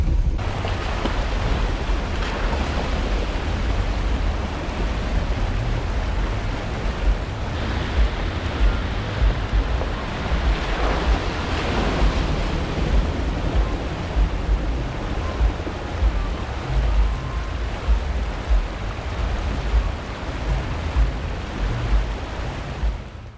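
An off-road vehicle pushes through a deep river water crossing in Colorado, producing a continuous loud rushing and churning wash of water with engine rumble beneath, steady throughout without voices.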